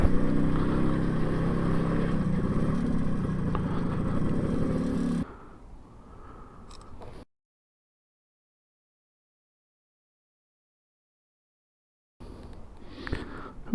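A 1984 MZ TS125 two-stroke motorcycle rides along a road with a loud, steady engine drone that drops off, then cuts out into near silence before a fainter engine sound returns.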